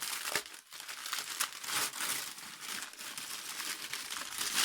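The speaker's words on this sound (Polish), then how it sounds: "zdejmujemy papier" Paper crinkles and rustles continuously close by, with sharper crumpling bursts as it is pulled away and scrunched, no voices.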